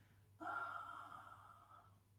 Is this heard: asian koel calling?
no